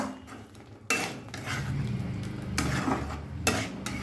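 A spatula scrapes and clatters against a pan while spice paste with potatoes is sautéed for a vegetarian moong dal kalia, with three loud stirring bursts over a steady low frying background.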